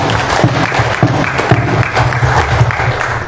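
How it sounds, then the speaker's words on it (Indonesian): Audience applause at the opening of a maternal perinatal audit team training in Nagekeo, steady dense clapping close up, loud and continuous for the whole stretch with no talk. "kita tepuk tangan sama-sama."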